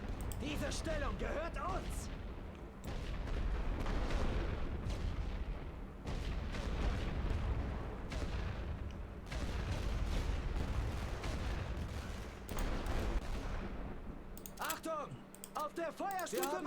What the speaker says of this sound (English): we'll call in the heavy artillery